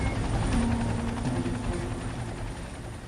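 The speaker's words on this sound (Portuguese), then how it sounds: "O helicóptero lança uma boia para Priscila." A rescue helicopter hovering over a river, its steady rotor drone and engine rumble loud and continuous throughout, with no voices.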